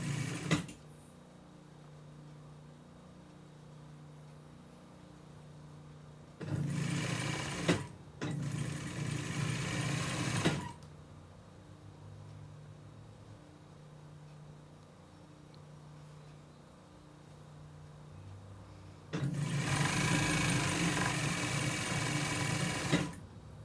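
A sewing machine stitches folded fabric ties for dining chair slipcovers, running in three steady, close bursts of motor whir and needle chatter separated by quiet pauses.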